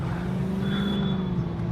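Defender car engine in a video game holding a steady low drone with a rising tone as it gains speed, continuous and loud throughout.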